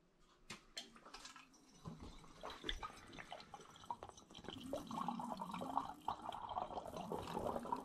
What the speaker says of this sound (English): Get the siphoning tube in.